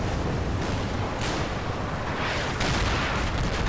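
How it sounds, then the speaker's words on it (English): Continuous World War II artillery fire thunders in Combat Mission: Battle for Normandy, a dense, loud barrage of overlapping blasts and rumble with sharper bursts standing out throughout. "More German artillery, and then our response."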